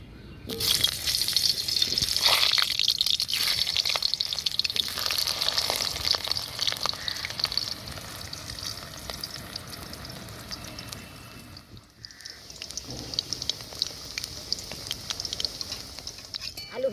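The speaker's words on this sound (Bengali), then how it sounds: "কড়াইয়ে সর্ষের তেল দিয়ে প্রথমে আমি আলুটা ভেজে নেব।" Potatoes frying in hot mustard oil in a wok give a steady, close sizzle that is loudest early on, briefly drops out around twelve seconds and then resumes, with faint kitchen clatter in the background.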